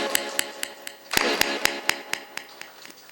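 An audience at a Bhagavat Katha religious discourse claps in sharp, evenly spaced single claps, about a dozen in steady rhythm with a louder cluster in the middle, close and crisp over a faint hum.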